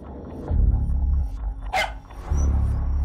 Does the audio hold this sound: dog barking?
yes